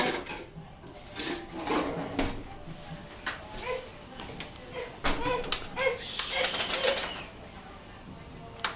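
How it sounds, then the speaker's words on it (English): A knife cuts into a strawberry jello dessert with soft taps and scrapes against a dish, punctuated by scattered utensil clinks, close and fairly quiet. "Just grab a knife, cut into it"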